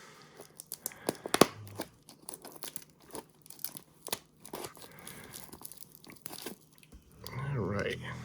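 A heavily taped cardboard box of sports cards is torn open by hand, with irregular bursts of crackling tape, ripping cardboard and crinkling close to the microphone, ending in a longer rustle.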